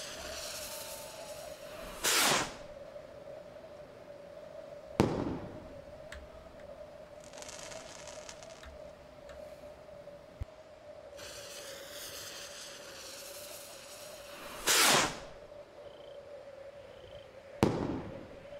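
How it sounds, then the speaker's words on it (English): Rockets blown up in the zombie survival game Survive the Nights, a few sharp whooshing bursts spaced several seconds apart over a steady electronic tone and quieter crackles. "And finally, the three rockets. We're going to blow them."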